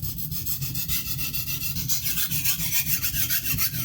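A knife blade rasps in rhythmic back-and-forth strokes across a coarse Norton India oilstone, a gritty, scratchy scraping that repeats steadily and close with no talking.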